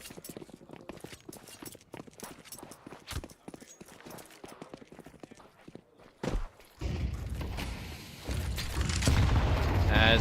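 Grenades land and explode in a competitive shooter match, with heavy booms and scattered gunfire over quick footsteps, the blasts growing louder and denser toward the end while a commentator talks over the action.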